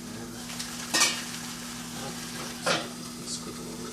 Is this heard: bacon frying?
yes